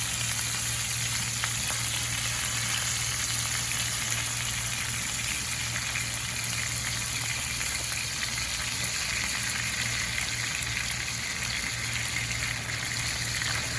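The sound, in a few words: steak sizzling, basted with compound butter in pan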